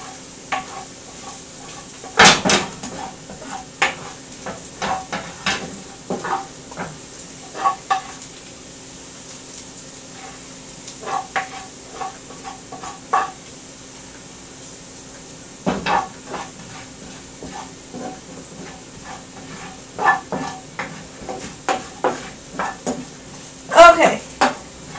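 Onions caramelizing in a frying pan, a quiet, steady sizzle with irregular spatula scrapes and taps against the pan scattered across the stretch, a few louder knocks standing out.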